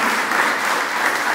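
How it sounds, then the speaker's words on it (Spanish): An audience applauds at an occupational certification ceremony for automotive painters, a SENATI-Mitsui event; a brief, even burst of many hands clapping, close and continuous without a break. "Aplausos."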